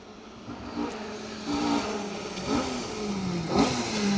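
A Mark II rally car accelerates hard on a forest stage at Greystoke, its engine rising and shifting pitch in repeated revving pulls as it passes at medium distance over steady background noise.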